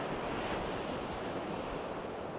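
Rough sea surf crashes steadily on an east coast UK beach at Sutton on Sea, a loud, unbroken roar of breaking waves mixed with gusting wind buffeting the microphone, with no voices present.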